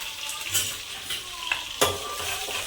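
Curry leaves and garlic fry in hot oil in a pan, a steady close sizzle broken by a few scraping stirs of a spoon, with nobody talking.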